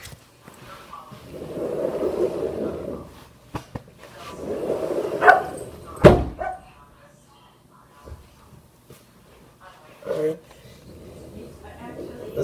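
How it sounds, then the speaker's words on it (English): Dog indoors letting out a few short, sharp barks spaced several seconds apart, mixed in with people talking nearby. "right when I close this, he's gonna bark."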